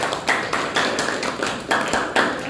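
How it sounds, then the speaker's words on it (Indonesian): Students in a history class clap for a classmate, a short burst of dense, even hand claps with pulses recurring every half second or so, fairly close and steady throughout. "tepuk tangan buat Jasmine ya"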